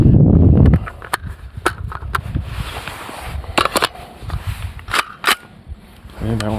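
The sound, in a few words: loading a round into a PSA JAKL 300BLK rifle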